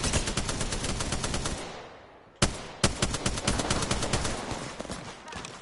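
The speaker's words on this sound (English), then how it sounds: "there's a lot of shooting over here" Gunfire in a solo shooter video game, dense rapid bursts of automatic shots, loud and close, briefly fading before sharp single shots and renewed continuous firing.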